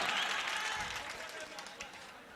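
An audience at a mushaira claps, a broad wash of applause that is loudest at first and slowly fades.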